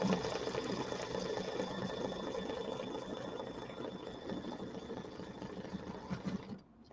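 An embroidery machine stitches steadily in a fast, even, mechanical rhythm, close and continuous, tacking down fabric for a fall-themed rectangular bench decoration, then stops abruptly near the end.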